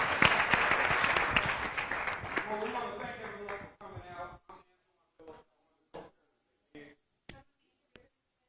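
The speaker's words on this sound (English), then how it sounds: "give all the candidates one more round of applause, please" At a mayoral candidates' forum, an indoor audience applauds loudly, and the clapping thins out and fades into a few scattered, separate claps before silence.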